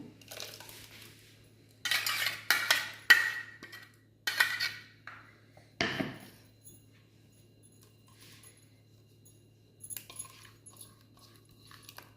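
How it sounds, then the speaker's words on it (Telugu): Dishes clatter and clink in several bursts, bowls knocking against each other and being set down, with quiet pauses between and a low steady hum beneath. "ఇప్పుడు గిన్నెలు వేసుకుందాము"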